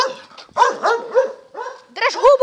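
A dog barks and yelps in several quick bursts while a person's voice shouts close by, both loud and overlapping in short bursts with brief pauses.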